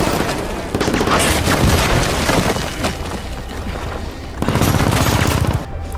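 A BMP armored vehicle opens fire in a war drama scene, loud sustained bursts of heavy automatic gunfire with booming impacts filling the whole stretch, surging again near the end, no voices.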